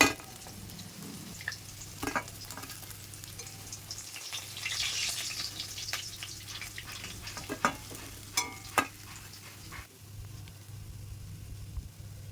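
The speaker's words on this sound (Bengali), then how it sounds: "মাছ ভাজা তেলের মধ্যে জিরে আর তেজপাতা দিয়ে ফোড়ন দেব।" Cumin seeds and bay leaf hit hot leftover fish-frying oil for a Bengali tempering, giving a steady close sizzle with scattered sharp crackles and pops and a few stirring clatters, with no talking.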